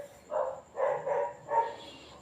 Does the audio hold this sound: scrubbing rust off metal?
no